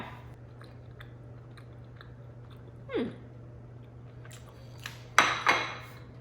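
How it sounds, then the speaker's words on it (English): Crunchy buttered almond flour tortilla is chewed close to the mic in a few sharp bites and crunches over a low steady hum, with quiet clinks between. "I love that crunch that almond flour tortilla gives."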